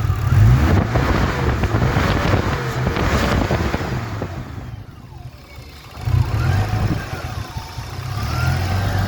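BMW M50 engine running after an alternator swap, a rumbling motor heard close with wind buffeting the microphone, its drone dipping briefly midway before returning, no voices present.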